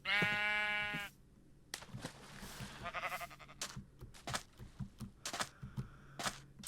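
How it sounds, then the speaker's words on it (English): A black sheep in the Minecraft video game gives one loud, wavering bleat up close, followed by a series of soft clicks and taps. "Ooh, a black sheep."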